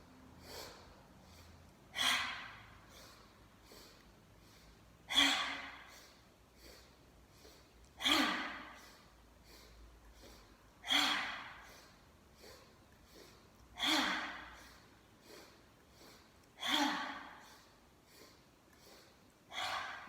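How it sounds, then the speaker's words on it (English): Slow, deep yoga breaths, each an audible intake or exhale arriving about every three seconds, soft and close in an otherwise quiet room, no talking. "Deep breath in."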